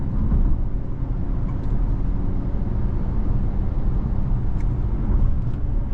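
Acura TLX A-Spec sports sedan driving into a right turn, heard from inside as a continuous low engine and road rumble at a steady, fairly loud level without speech.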